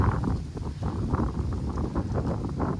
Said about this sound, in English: It's really windy. Sorry if it's impeding on the sound.